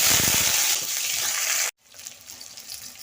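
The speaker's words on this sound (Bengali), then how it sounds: "তেল গরম হয়ে গেছে কেটে রাখা আলুগুলো আমি কষে" Cut potatoes hit hot oil in a pan for a jackfruit curry, giving a loud, hissing sizzle that cuts off abruptly and then returns as a quieter, steady fry.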